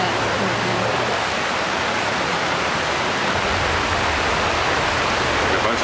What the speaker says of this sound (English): Some of the challenges of the locations has frequently been the rain.